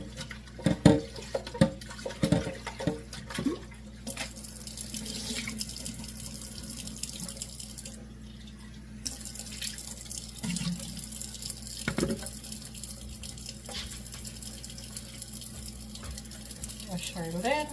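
Tap water runs steadily into a sink as fruits and vegetables are washed by hand, with some clunks and splashes early on and a constant hiss throughout, alongside occasional background voices.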